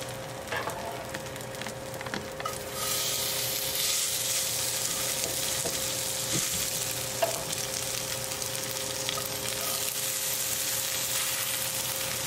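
Wild Alaskan king salmon patties, from fish caught in Sitka, frying on a stovetop pan: a soft, even sizzle that swells after a quieter start and then holds steadily, with occasional faint clinks.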